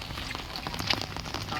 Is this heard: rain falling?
yes